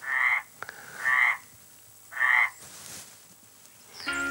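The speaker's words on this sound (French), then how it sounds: "Où elles sont les grenouilles?" Frogs croaking in three loud, evenly spaced bursts, each a rasping, buzzy call about half a second long, close by with short quiet gaps between, no talking.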